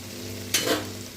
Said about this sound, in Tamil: நல்லா ஒரு மல்லி வதங்கி வர வரைக்கும் நல்லா ஒரு பெரட்டு விட்டுக்கலாம்